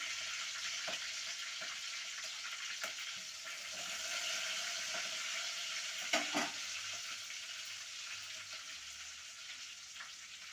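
Green chillies and curry leaves fry in hot oil for a bhindi curry, giving a steady close sizzle with occasional sharper crackles and stirring clatter throughout, no voices.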